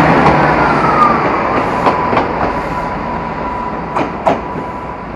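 A Great Western Railway train approaches the station at Paignton, a steady rumble building with rhythmic clickety-clack of wheels over rail joints and a faint high whine, heard alone without talk.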